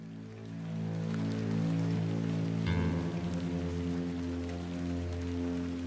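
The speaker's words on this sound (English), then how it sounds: "That's the rain, lady." Steady rainfall patters continuously over a low droning background in the video game The Excavation of Hob's Barrow, with a brief shift in tone partway through; no voices.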